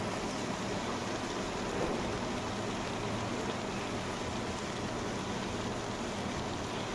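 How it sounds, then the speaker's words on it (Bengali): Vegetables fry in a pan for a singi fish curry, giving a dense, even hiss that runs without a break from start to finish, fairly faint and with no voices. "দিয়ে একটু ভেজে নিচ্ছি সবজিগুলো"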